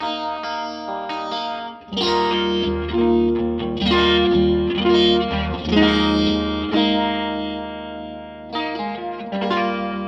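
Electric guitar strums and chords through a Cornerstone Aquarium vibe pedal, with a warm, swirling modulated effect, played close and loud, with brief pauses and ringing sustain between phrases.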